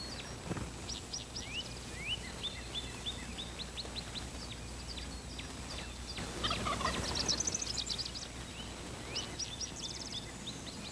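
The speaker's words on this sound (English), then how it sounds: "This matched set of gobblers is coming right on in." A pair of wild spring turkey gobblers gobble repeatedly at mid distance. Their rattling calls come in several bursts over a steady outdoor background, with one louder, closer volley near the middle.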